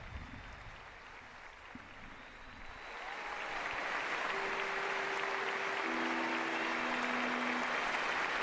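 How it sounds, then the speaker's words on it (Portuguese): A congregation at a papal Mass in Gran Canaria, led by Pope Leo XIV, applauds. The clapping swells after a quieter start into loud, sustained applause from a large crowd that continues without a break. "Ainda o forte aplauso dos presentes, aplauso que se prolonga antes da bênção final do Santo Padre."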